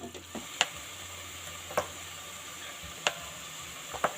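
Stir-frying in a pan before fish sauce goes in, heard as a steady quiet sizzle with a few sharp spatula taps against the pan, close and without talking.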